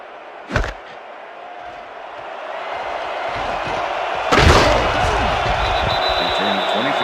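A sharp thump of a football kickoff in the video game ESPN NFL 2K5, then a louder burst of crowd noise and game commentary ambience, with a steady roar of stadium crowd throughout.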